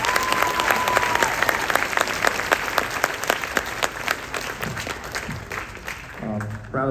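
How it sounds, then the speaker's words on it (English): Applause from an audience at a high school band spring concert, a dense steady clatter of many hands sustained throughout, with a few faint voices rising near the end. "big round of applause for our Performing Arts Boosters."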